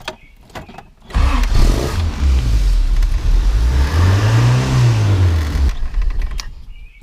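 A Toyota pickup or 4Runner engine revs up from idle, rising and falling in a loud sustained roar for several seconds before cutting back, close by with no talk.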